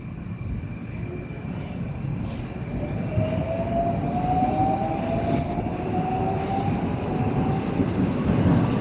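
Steady rumble of a Moscow subway train riding along the tracks at night, with a faint rising whine of wheels and motor, continuous and close.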